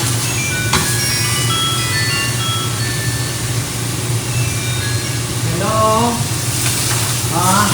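Butter sizzling in a pan while beef tongue cooks, a constant crackling fry that runs throughout, with faint voices and laughter near the end.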